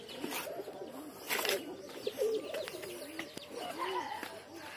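A loft of about sixty pigeons coos softly in low, rolling murmurs, several birds overlapping at close range, with occasional chirps and faint rustling.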